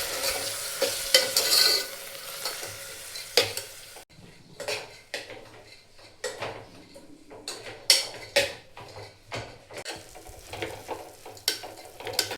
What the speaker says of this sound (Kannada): ಇದಕ್ಕೆ ಮೊಳಕೆ ಒಡಿಸಿದ ಹುರುಳಿಕಾಳನ್ನ ಸೇರಿಸ್ಕೊಳ್ತೀನಿ. ಇವನು ಒಂದು ಸ್ವಲ್ಪ ಫ್ರೈ ಮಾಡ್ಕೊಳ್ಳೋಣ್ರಿ